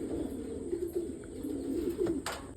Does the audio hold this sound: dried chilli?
no